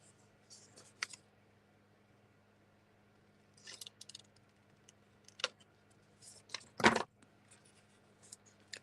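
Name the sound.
scissors cutting paper for a junk journal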